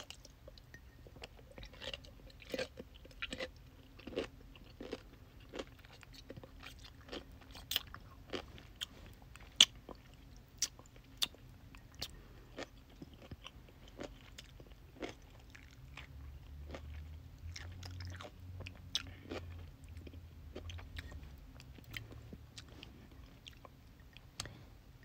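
Crunchy bites and wet chewing of sour dill pickles, close up with sharp crisp snaps repeating irregularly over a quiet background.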